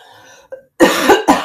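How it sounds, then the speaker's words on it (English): A single sharp cough followed by a second cough, loud and close, after a brief faint sound. "Trying not to cough into the camera."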